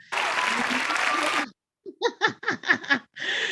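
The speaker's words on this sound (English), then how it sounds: "y'all better give them a round of applause" A burst of applause fills the opening, then breaks off into a short string of bright, bouncy laughter and a final brief swell of noise.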